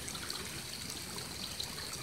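A small trickle of water runs through a narrow irrigation channel diverted from a stream, a steady, soft liquid babble heard alone at low level.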